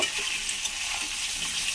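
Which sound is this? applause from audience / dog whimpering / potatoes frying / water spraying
potatoes frying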